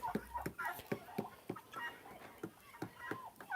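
Repeated clucking and short calls from turkeys, a steady series of close, moderately loud bursts with farmyard ambience between them.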